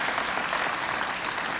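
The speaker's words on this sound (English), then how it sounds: "Give a round of applause to the goddess herself." Audience applause at a firearms-rights association's annual general meeting, a steady dense wash of clapping hands throughout, filling the room without any voices standing out.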